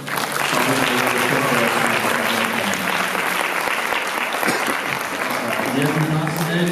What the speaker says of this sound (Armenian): ուզում եմ ծափահարենք բոլորին